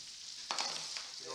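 Butter sizzles in a hot pan beside a frying fish fillet, a steady quiet hiss with a brief louder crackle burst midway, then settling back to a low fry.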